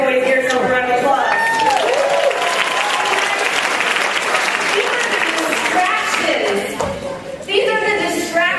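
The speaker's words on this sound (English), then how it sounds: "Here's a round of applause." A crowd breaks into steady, dense applause with some cheering, swelling for several seconds before a speaker's voice returns over the fading claps.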